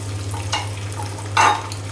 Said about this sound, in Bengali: এখন ডিমটা আমি খুব সুন্দর লাল লাল করে ভেজে নেব।